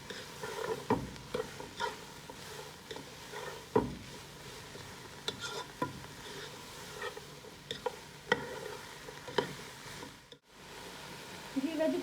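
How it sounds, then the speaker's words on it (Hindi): Vegetables and spring onion, seasoned with black pepper, are sautéed in a pan for Singaporean rice, giving a soft continuous sizzle broken by frequent scraping stirs and clatter, fairly quiet and close. "साथ में इसके जाएगी स्प्रिंग अनियन। तो सौटे करते हैं अच्छे से।"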